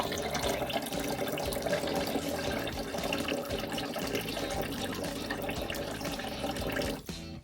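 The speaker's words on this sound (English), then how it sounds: "This is what water pressure, or lack thereof, looks like right now." A tap at an off-grid cabin fed by a one-inch pipe runs at full blast with low water pressure, giving a steady close splashing flow that stops abruptly at the end.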